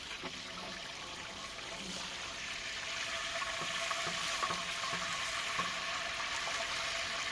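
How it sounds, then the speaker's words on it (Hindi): Onions sizzling and frying in oil in a pot over a wood fire for veg pulao, a steady crackling hiss that holds on without a break and grows slightly louder partway through. "ये प्याज फ्राई हो रही है इसमें।"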